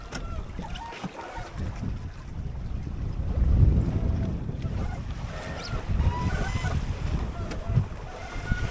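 Sea waves approaching a metre high wash and slap around a small 21-foot home-built sailboat crossing the Atlantic, with swelling surges over steady wind rumble and no talk.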